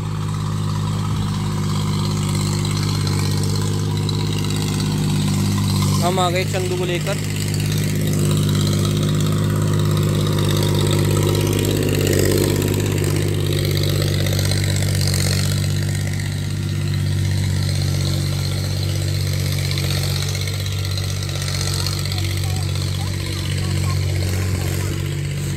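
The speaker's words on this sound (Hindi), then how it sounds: "ये देखो खेत में मम्मा जी ट्रैक्टर चला रही है" A tractor engine runs in a farm field, a steady low mechanical drone with a strong constant hum and little change in pitch, with someone speaking briefly over it.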